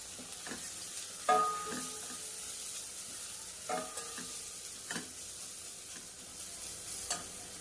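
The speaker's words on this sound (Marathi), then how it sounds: "आता आपण हा वाटून घेतलेला मसाला टाकायचा आहे यामध्ये" Ground masala frying with well-browned onion in a pan, a soft steady sizzle broken by several sharp clinks and scrapes of stirring spaced a second or two apart.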